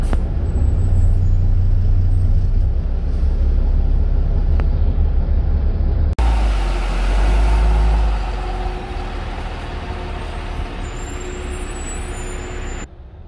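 Kangaroo Bus Lines Denning Phoenix low floor bus with a Cummins ISB engine, pulling in to stop at a station: a close, loud low diesel rumble that drops away, then a sharp hiss of air brakes and a steady idle hum, with no talk.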